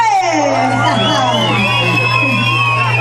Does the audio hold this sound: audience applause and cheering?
yes